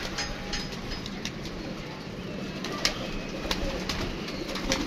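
Pigeons cooing in a loft or rooftop coop, steady soft coos repeating over a constant hiss of background noise, with no talk.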